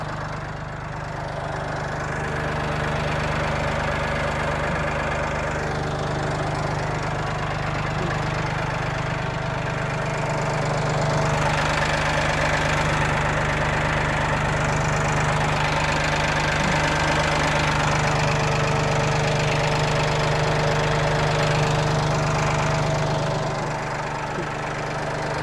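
A 2021 Massey Ferguson 1835M tractor engine idles steadily and close by for the whole stretch, a continuous low diesel rumble with a faint mechanical knock and slight swells in level.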